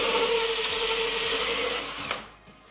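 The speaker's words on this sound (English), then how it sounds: "Then when you drill the next hole," A power drill whines loudly for about two seconds at a steady pitch, then winds down and stops, leaving a brief quiet tail.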